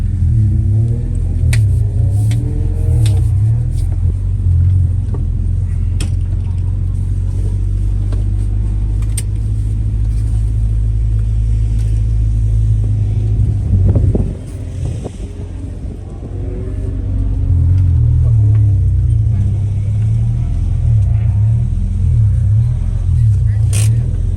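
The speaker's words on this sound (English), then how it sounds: "Cars are started" Track cars at a racetrack session run their engines: a loud, steady low rumble with revs that rise and fall, some wind buffeting, and a short dip in the middle.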